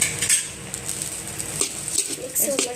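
Paneer fried rice is being stirred in a pan, giving a string of light metallic scrapes and clinks from the spoon, close by and uneven, while someone talks over it.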